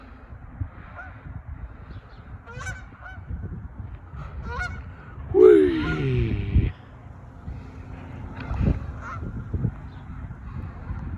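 Canada geese honk loudly in a burst near the middle, over steady outdoor noise and scattered bird calls on a morning walk; someone gives a brief excited shout.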